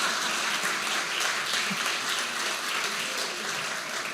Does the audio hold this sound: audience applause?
yes